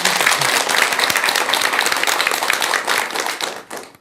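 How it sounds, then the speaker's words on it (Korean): Audience at a Buddhist monk's lecture breaks into applause, a dense, lively burst of many hands clapping together that holds for several seconds before fading out. "박수 한번 드리세요"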